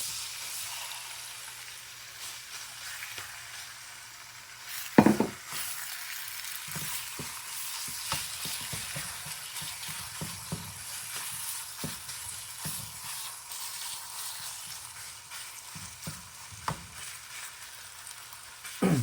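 Beef frying in a pan with garlic: a steady close sizzle throughout, punctuated by clattering stirs and utensil knocks, one loud clank as the meat goes in, no talking.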